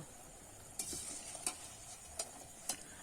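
Nimki pastries deep-frying in hot oil give a steady, quiet sizzle, broken by a few sharp clinks of a utensil against the pan at irregular intervals.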